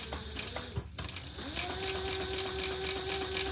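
A sewing machine stitches a Pebble Mini Sling bag, running in a steady close whir with a mechanical rattle, pausing briefly before starting again and holding a continuous tone.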